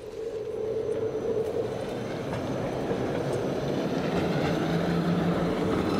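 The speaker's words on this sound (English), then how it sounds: "There's a tram, maintenance tram for the tram lanes." A maintenance tram rolls past on city tram lanes, a steady loud rumble with a rising and falling whine, continuous and close throughout.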